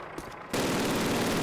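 Sustained automatic gunfire in the video game Call of Duty, a sudden, dense, loud burst of rapid shots that starts abruptly and continues steadily without pause.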